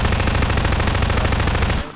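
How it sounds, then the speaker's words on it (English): A submachine gun with a 45-round magazine fires a continuous rapid burst in Garry's Mod, loud and dense for about two seconds before cutting off abruptly. "And you just keep firing, because it has a massive clip size for an SMG at 45."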